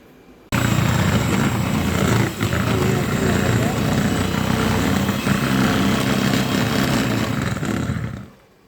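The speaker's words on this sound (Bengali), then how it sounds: "এখন আমি এটাকে ব্লান্ড করবো" Electric blender whirring loudly and steadily as it churns milk cream with salt and food colouring into butter, starting abruptly and running for several seconds before cutting off, with no talk over it.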